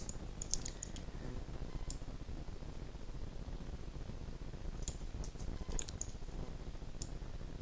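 A computer mouse gives small, sharp clicks, some single and some in quick clusters, faint over a steady hiss of background noise.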